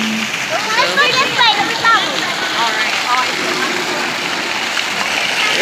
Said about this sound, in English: Water fountain. I just wanted you guys to see it.